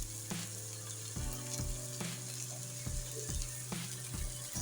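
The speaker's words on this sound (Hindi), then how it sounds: "तो अब इसको हम फ्राई करेंगे अच्छे तरीके से।" Onions frying in a pan for egg white korma, a steady close sizzle with a low hum and repeated stirring scrapes of a spoon against the pan, no voices.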